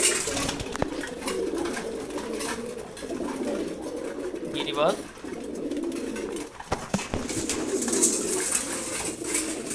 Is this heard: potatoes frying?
no